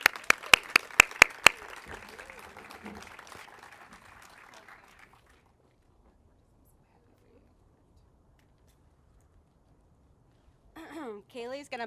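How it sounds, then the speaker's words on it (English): Applause from the audience at a women-in-journalism awards event, opening with several loud, close individual claps over a brief crowd clap that fades within a few seconds into near silence before a voice starts speaking. "Can we please give her a round of applause?"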